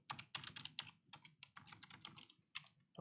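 A command is typed on a computer keyboard, a quick, uneven run of close, crisp key clicks and taps, faint and without any talking.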